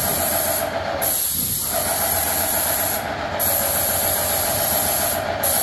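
A paint sprayer applies Behr i300 dead flat ceiling paint, giving a loud, steady airless hiss that drops out briefly at each trigger release before resuming, with no voices.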